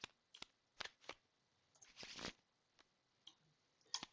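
Playing cards are shuffled and handled during a tabletop game of Smash Up, with soft, faint riffles and short bursts of card rustling separated by brief pauses.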